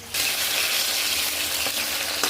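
Mushrooms fry in hot oil in a pan, giving a steady, close, hissing sizzle that starts abruptly and holds at an even level, with a couple of faint clicks near the end.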